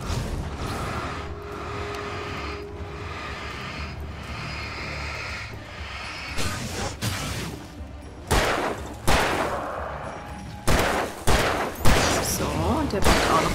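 Revolver gunfire in the video game Alan Wake Remastered: a soft, murky stretch gives way to a run of sharp, loud shot bursts at uneven intervals, spaced a second or so apart.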